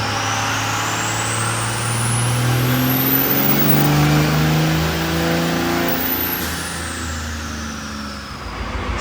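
A diesel truck with a VP44 injection pump, turbos and a water-methanol setup revs hard and steadily on a chassis dyno, a loud continuous engine drone that swells in pitch, then falls away toward the end.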